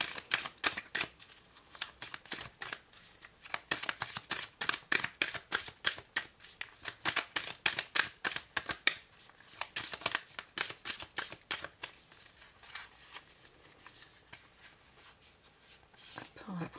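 Oracle cards being shuffled by hand before one is drawn, a close rapid riffling with soft rhythmic slaps, steady for most of the stretch and slowing toward the end, with faint speech underneath.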